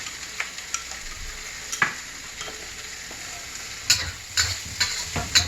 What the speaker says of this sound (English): Just keep stir frying until you think it's okay.